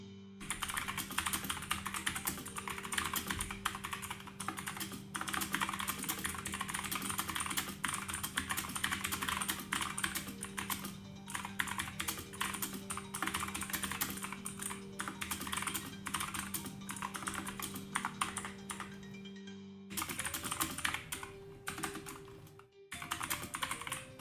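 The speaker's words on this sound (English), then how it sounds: "ASMR, or just keyboard clicking?" Computer keyboard typing with a continuous rapid patter of clicks over a steady low electrical hum, broken by a couple of brief pauses near the end.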